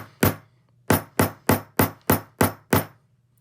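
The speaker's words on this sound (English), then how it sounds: "I'm going to hammer that into place." An ordinary hammer striking Dritz metal snaps to set them, eight sharp, close, loud taps: one, a pause, then seven in an even, quick rhythm.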